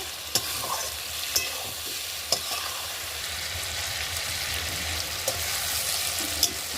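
Beef tripe stir-fries bhuna style in a pan with a steady sizzle, punctuated every second or so by sharp clacks of a spatula against the pan, no voices.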